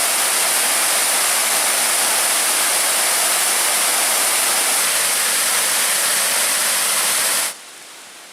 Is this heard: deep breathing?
no